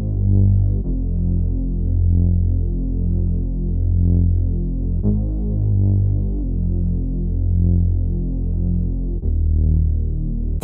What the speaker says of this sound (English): I grabbed this 40s Palace bass from the Midnight Session Analog Lab bank, and I just followed the root notes of those chords